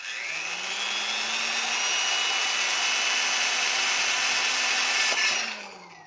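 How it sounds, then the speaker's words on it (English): A power drill bores a hole through an acrylic aftermarket spoiler for a 1998 Eclipse GS. Its steady, close, high-pitched whine runs unbroken for several seconds, then tapers off as the bit breaks through. "I'm gonna go ahead and drill it now"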